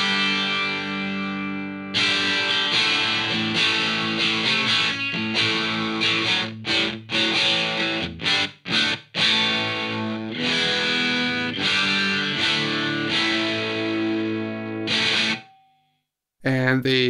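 Distorted electric guitar through a Two Notes Torpedo Captor X load box with a Dynamic 57 mic simulation, heavily mid-focused, plays loud chords and riffs with sharp stops and gaps, then cuts to near silence before a brief return.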